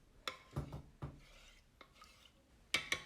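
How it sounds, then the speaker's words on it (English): Salt and sugar being stirred into a yeast mixture for bread, a spoon knocking and scraping against the bowl in a few quick bursts with quiet gaps between. "Just going to mix this together as well."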